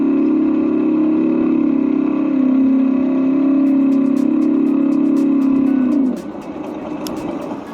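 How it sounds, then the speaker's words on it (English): An electric scooter's (Windhorse D1) speed-dependent simulated motorcycle sound: a steady, engine-like drone hums evenly for several seconds, then drops abruptly to a lower, rougher idle near the end. "it's speed dependent sound, so it sounds like a bike, like a motorcycle."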